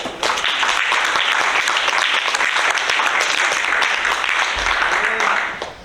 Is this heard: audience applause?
yes